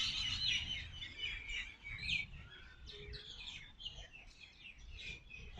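Birds chirp and sing repeatedly under a tree in a park after rain, bright overlapping calls fairly close over a soft low background hum, with no talking.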